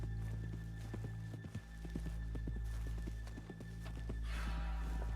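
A horse in the video game Red Dead Redemption 2 whinnies near the end while hooves clop steadily throughout, over a constant low hum of game ambience.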